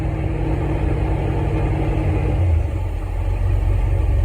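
A 1995 Chevy G20 van's 4.3 engine with a rebuilt throttle body injection unit idles steadily and close, a loud, even low rumble that dips in pitch partway through as it settles lower.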